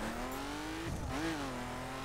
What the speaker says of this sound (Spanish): Fijaros el cómo se escucha el motor